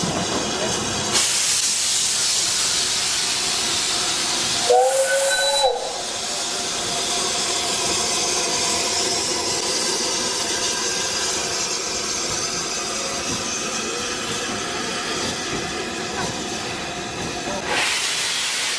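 A steam locomotive on the Bluebell Railway vents a loud, sustained hiss of steam for most of the stretch, broken by a brief high whistle-like squeal and ending with another burst of escaping steam.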